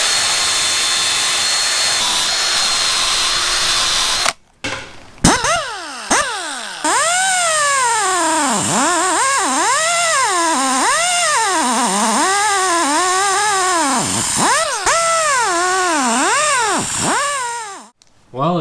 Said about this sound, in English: The 3M Roll-Lock bristle disc has come in the mail. I've got it chucked up in my drill right now